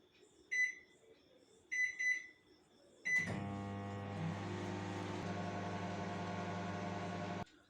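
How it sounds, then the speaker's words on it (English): A microwave oven bakes a chocolate mug cake: three short button beeps, then a steady loud electric hum as the oven runs for several seconds. "We bake it in microwave for 1 minute."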